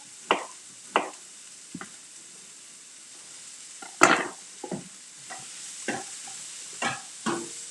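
Finely chopped courgettes being stirred in a frying pan, with a faint sizzle beneath a series of separate close scraping and clattering strokes at an uneven pace.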